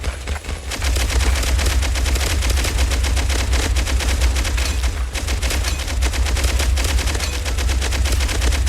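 Minigun fire in the video game Pixel Gun 2: a dense, continuous rapid-fire roar with rattling shots and a heavy low rumble, loud and sustained with only a brief dip near the start.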